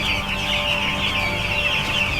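Chickens cluck in a poultry house, a dense, continuous chorus of many birds murmuring at close range with no talking.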